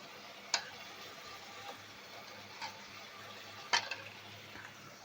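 Chicken pieces go into spice paste frying in oil for a Bengali chicken roast. The sizzle is faint and steady, with a few sharp clicks from the stirring spoon.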